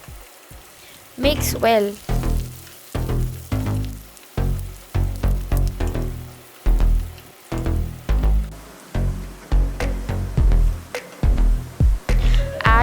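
Chopped onions fry in a pan for aloo gobhi tamatar, sizzling loudly in repeated bursts as they are stirred, with a brief spoken line from a woman.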